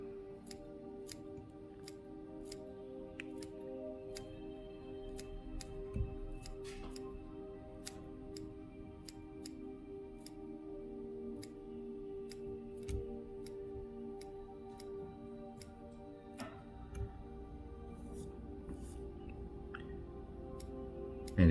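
Small scissors snip hair on a Yellow Muddler fly being trimmed at the tying bench, giving quiet, irregular clicks and cuts scattered over a steady low room hum, close up with no talking.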